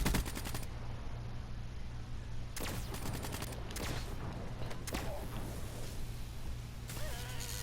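Bursts of automatic gunfire crackle in a Call of Duty match, loud rapid volleys repeating over steady game background noise, with no speech.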